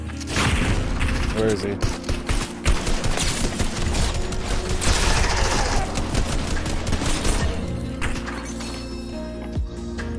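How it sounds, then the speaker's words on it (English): Rapid gunfire aimed at the player in a tense video game shootout, sustained loud bursts and automatic volleys with booms and impacts across the scene, while a voice speaks over the shooting. "I'm getting shot at."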